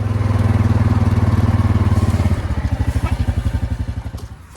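A four-wheeler engine idles loud and close with a steady low drone, then settles into a pulsing, chugging rhythm as it tows a camper waste tank toward a septic tank.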